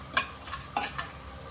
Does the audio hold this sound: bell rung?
no